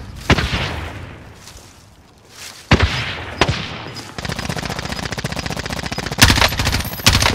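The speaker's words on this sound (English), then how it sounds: "He's shooting." Automatic gunfire from an enemy player in a shooter video game, with scattered single shots at first, then sustained rapid bursts that grow louder near the end, with no talk over it.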